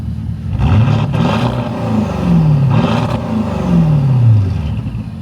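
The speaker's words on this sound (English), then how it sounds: "Hey, give me another rev." A Porsche 955 Cayenne Turbo V8 with muffler delete and X-pipe revving nearby, a deep loud burbling roar that rises and falls through about three rev pulls.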